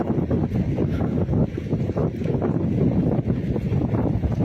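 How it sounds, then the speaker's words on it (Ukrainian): Strong gusting wind buffets and whistles across the microphone, loud and continuous, with rushing noise filling the whole stretch, in the river port district of Kherson, Ukraine. "Вітер в руках, свистить, нічого не чую."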